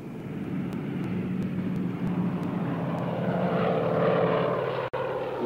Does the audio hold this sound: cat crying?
no